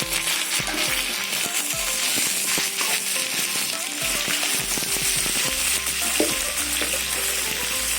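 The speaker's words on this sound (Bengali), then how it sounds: "এবার আমি কাঁচা লঙ্কা সবজি একসাথে দিয়ে দেবো" Onion, green chilies and mixed vegetables sizzle loudly in a hot pan, a dense steady frying hiss broken by scraping stirs and spatula knocks.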